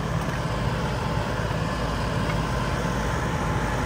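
A John Deere CRDI farm tractor engine runs with a steady broadband diesel drone and low rumble, continuous and fairly close, with no voices over it.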